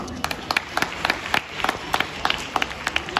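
Audience applause at a school poetry recital held for a Republic Day celebration, sounding as scattered, moderately loud claps with sharp irregular bursts over a murmuring hall.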